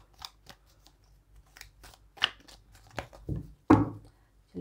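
Tarot cards are shuffled in the hands, giving crisp, uneven snapping and riffling bursts close up with quiet gaps between them.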